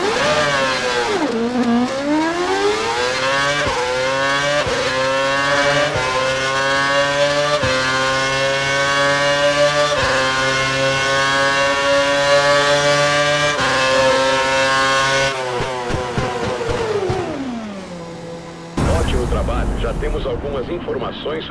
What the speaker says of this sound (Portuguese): Vá pela pista e acelere acima de 257 km por hora, então freie para parar completamente na área marcada.